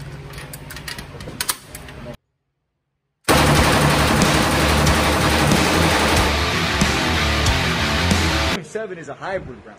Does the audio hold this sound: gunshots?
yes